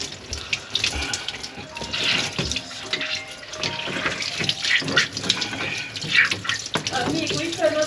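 Flooding kitchen sink with water gushing and splashing continuously, a loud, close rushing stream with irregular sloshing bursts and a faint voice in the background.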